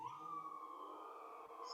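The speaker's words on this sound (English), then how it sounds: "There's a lot of sirens today." A single wailing siren holds a steady, slightly wavering tone throughout, moderately distant and continuous with no talking.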